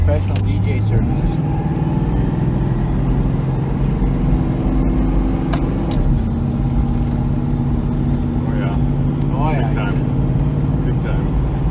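A turbocharged Mazda RX-7 with a rotary engine drives along, a loud, steady engine drone whose pitch shifts as it changes gear, with people talking over it.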